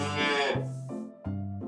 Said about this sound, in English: Cows go.